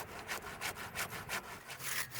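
A saw cuts through firewood logs in quick, steady back-and-forth strokes, each pass a rasping wooden scrape, fairly close and unaccompanied by voices.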